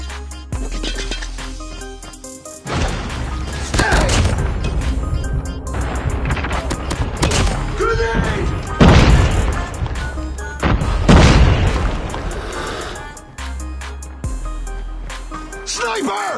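Grenade blasts in the shooter game COD Mobile, heavy booms bursting out of dense, loud gunfire and battle noise, with game voices calling out over the action.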